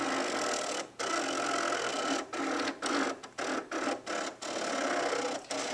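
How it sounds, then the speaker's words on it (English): A Cricut cutting machine cuts a ghost outline, giving a steady close whir broken by short pauses as the carriage changes direction, with the rhythm quickening toward the end. "we're going to push the cut button, the OK button, and that's going to cut the ghost outline"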